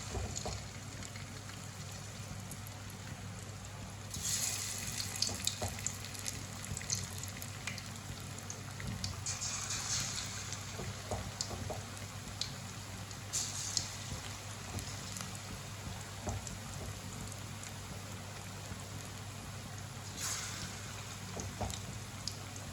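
Eggplant pakora batter fries in hot oil with a continuous soft crackling sizzle, faint and steady, with a few brief brighter spatters.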